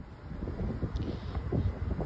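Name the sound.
wind blowing outdoors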